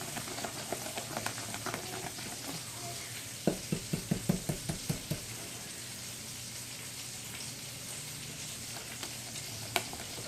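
Sausage sizzles in a hot pan on low heat, a steady soft crackle broken by a quick run of scraping stirs in the middle and a few sharp pops.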